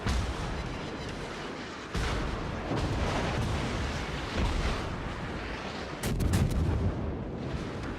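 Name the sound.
naval gunfire from ships in World of Warships video game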